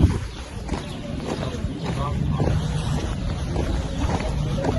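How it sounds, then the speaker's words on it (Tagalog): Wind blows across a hilltop viewpoint in Berat, Albania, rumbling and buffeting the microphone in a low, steady roar, with faint indistinct voices underneath. "Mahangin sa tuktok."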